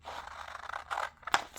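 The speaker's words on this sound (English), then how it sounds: "I'm just going to cut her out because" Quiet close snipping of scissors through paper, a soft sliding cut followed by two short crisp snips.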